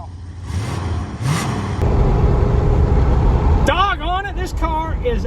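A 1976 Plymouth Volare engine runs steadily after being restarted, with a loud low rumble throughout and a few rising revs near the end, under someone talking.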